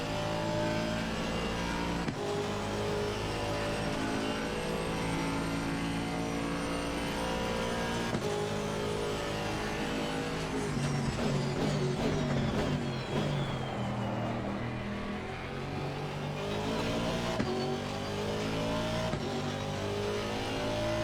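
A GT race car engine in Assetto Corsa Competizione at Monza revs and roars continuously, rising and falling through gear changes as it accelerates, loud and steady throughout with no talk.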